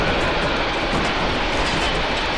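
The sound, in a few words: train passing by, in film For a Few Dollars More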